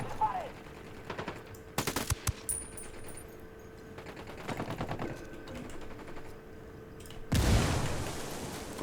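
Gunfire in the video game Ghost Recon Wildlands comes in several short automatic bursts separated by pauses, with a louder, denser burst near the end and faint background voices.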